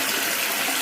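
Harare city council tap water gushes from a tap in a loud, steady, close rush of running water, brief and uninterrupted.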